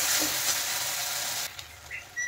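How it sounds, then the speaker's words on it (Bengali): Spice paste sizzles hard in a pan with onions for an egg-stuffed pointed gourd dish, a dense steady hiss that drops off abruptly halfway through, leaving a quieter faint crackle. "এখন আমি আগে যে মশলাটা পেস্ট করে রেখেছিলাম সেই মশলাটা দিয়ে দিলাম, দিয়ে কিন্তু ভালো করে একটু কষিয়ে নেব মশলা"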